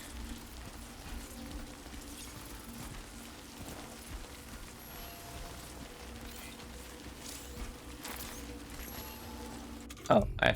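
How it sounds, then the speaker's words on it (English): Rain in the Death Stranding 2 video game: a steady, soft hiss of falling drops over a low rumble, faint throughout, with a sharper burst of noise right at the end. "Why did it have to start raining?"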